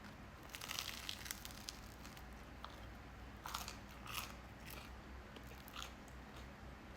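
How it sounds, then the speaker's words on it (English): A close bite into a crunchy homemade baguette, brittle crackling crunches that come in short bursts over a steady low background hiss. "Here's a close-up bite so you can hear the crunch."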